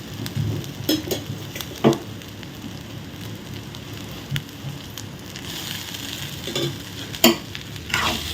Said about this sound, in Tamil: பாஸ்மதி ரைஸ் தான் இன்றைக்கி போட்டிருக்கோம் அதை தான் போட்டு நல்லா மிக்ஸ் பண்ணி விடலாம்